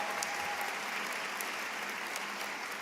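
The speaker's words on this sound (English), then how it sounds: "you can give them a round of applause" An audience at a high school commencement applauds, a dense steady clapping from a large crowd heard throughout without speech.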